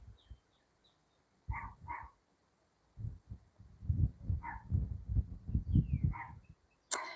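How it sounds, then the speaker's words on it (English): Dogs bark and yip at a distance in short irregular bursts, some sounding muffled as if from outside, with a few high bird chirps. "Can you guys hear the dogs barking?"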